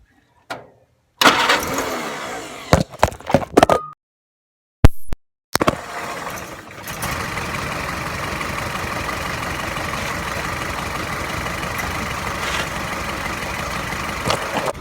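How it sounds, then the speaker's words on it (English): An old Willys Jeep pickup engine, just tuned up, cranks in several choppy bursts separated by short gaps, then catches and settles into a steady, close, even idle that lasts to the end. "The thing just sits there and idles real nice, and the motor sounds great."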